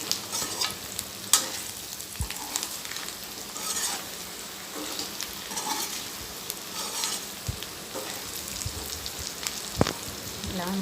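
Chicken fry tossed with coriander and mint leaves in a hot pan, a continuous crackling sizzle with irregular stirring scrapes and clinks, close up and without talk.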